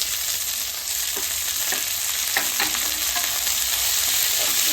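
Onion, beans, green peas and carrot sizzle steadily in a pan for semiya upma, with a few clinks and scrapes of stirring over the continuous frying hiss.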